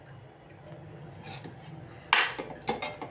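A spoon clinks and scrapes against a metal pot while coconut rice with coriander is stirred, soft at first and then a few sharper, brighter clanks near the end, alone.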